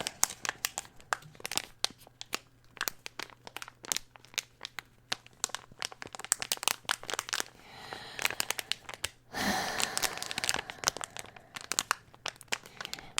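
Thin plastic crinkled and crumpled close by in irregular bursts, quiet patches between the handling, with a louder, denser stretch of rustling toward the end; no voice over it.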